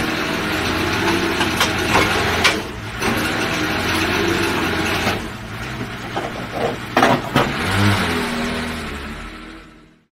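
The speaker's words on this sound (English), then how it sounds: "Forklift." A forklift engine runs steadily at a mid-pitched rumble throughout, with a few brief revs and knocking bursts, close and fairly loud before fading out at the end.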